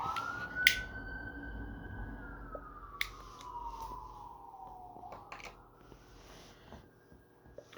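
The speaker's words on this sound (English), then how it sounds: "Oh, we have some sirens." A single siren wails faintly in the distance, its tone holding then sliding lower, with a few quiet clicks nearby and low city hum.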